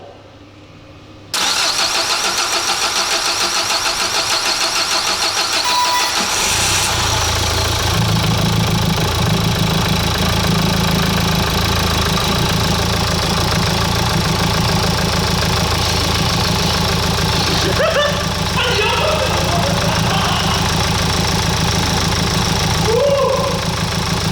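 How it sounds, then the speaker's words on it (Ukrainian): A Renault Kangoo engine cranks and fires after repair, catching and settling into a steady, rough idle with a low knocking rumble, loud and close, with brief voices faintly in the background. "Зараз будете свідками перших вздохів двигуна після ремонту."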